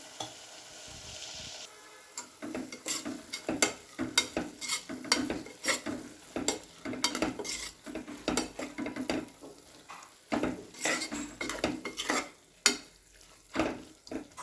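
Chili powder fries in hot oil for tomato rice, with a faint sizzle broken by frequent sharp scrapes and clicks of a spoon stirring in the pan.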